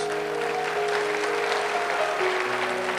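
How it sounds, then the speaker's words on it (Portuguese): Steady crowd applause at a church service fills the whole stretch at an even, dense level, with a sustained musical tone humming underneath. "Você pode aplaudir Jesus?"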